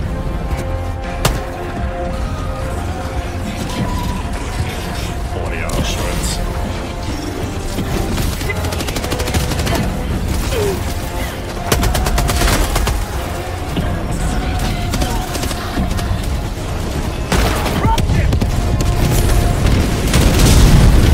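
Rapid SMG gunfire in a first-person shooter video game, with repeated loud bursts and booming impacts running continuously over dense battle noise for the whole stretch.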